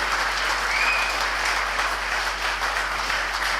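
Dense, steady audience applause fills the whole stretch, a continuous wash of many hands clapping at an even level with no voices standing out, at a Tamil political gathering.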